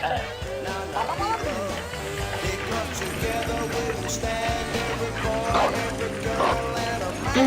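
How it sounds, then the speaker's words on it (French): A dog barks and yips in the Rabbids Big Adventure video game, repeated short barks over busy game music and effects, with a voice talking across part of it. "Le chien là-bas."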